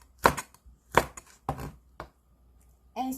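Red chili pepper being chopped with a knife on a cutting board while making Korean zucchini doenjang stew, with four sharp, close knocks spaced irregularly, a lighter tap between them, and a brief voiced sound at the end.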